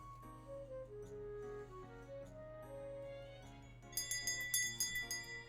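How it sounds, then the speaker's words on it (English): A soft bell chimes as a shop door opens in the video game Peachleaf Valley, a quiet cluster of bright, ringing tones rising over gentle background music. "A soft bell rings out as I walk into a rustic little shop"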